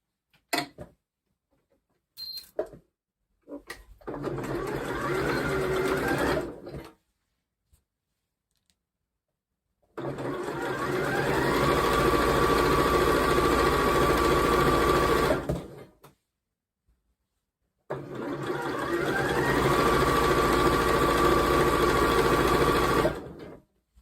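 Sewing machine stitching along the top edge of a fabric make-up brush roll with wadding, three bursts of fast rhythmic needle clatter separated by quiet pauses, no talking.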